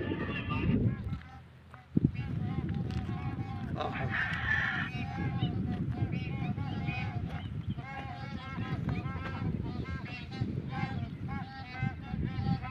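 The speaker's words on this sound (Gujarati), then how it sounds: "કેવા સુંદર પક્ષીઓ અવાજ કરતા ઉડી રહ્યા છે" Flocks of birds fly over a river, giving repeated honking, goose-like calls that overlap in a busy chorus, fairly close and loud, with a brief dip near the start.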